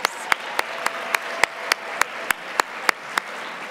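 Applause from an audience of women engineers at a conference gathering in Minneapolis, with a steady wash of clapping and a sharp, regular tapping accent repeating about three times a second throughout.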